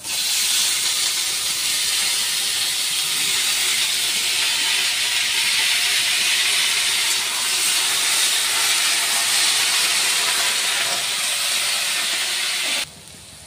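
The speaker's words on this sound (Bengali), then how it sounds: "এখন আমি আলুগুলো ছেড়ে নিচ্ছি।" Potatoes fry in a pan with a loud, continuous hissing sizzle that holds steady for the whole stretch before cutting off sharply just before the end.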